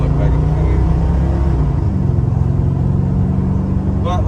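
A 1987 Chevrolet R10 pickup with a 350 TBI V8 accelerating onto a highway, a loud, deep engine rumble rising in pitch, easing briefly at a shift, then pulling again from inside the cab.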